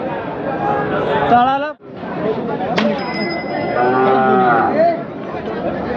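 A calf bawls repeatedly amid a busy bullock market in Chakan, with people chattering nearby and a metallic clang in the middle.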